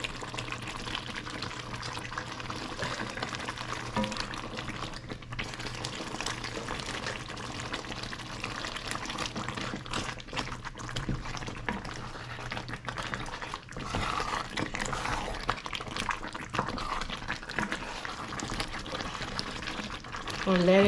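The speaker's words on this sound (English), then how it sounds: "I just let the meat brown just a little bit" Meat browning in a pot for a one-pot dinner gives a steady, moderately quiet sizzle and hiss that runs unbroken for the whole stretch, with some faint kitchen clatter.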